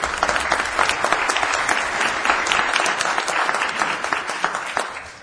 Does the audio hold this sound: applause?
yes